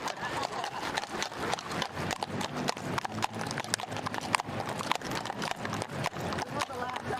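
Many horses clip-clop along a Washington D.C. street in a dense, continuous patter of hooves, with an occasional whinny and people talking over the procession.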